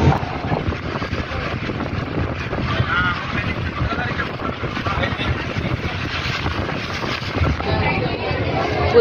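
A large passenger boat carrying over a hundred people cruising on a lake near a Buddha statue in Hyderabad, a steady broad rumble of engine and water rush with wind buffeting the microphone, continuous throughout.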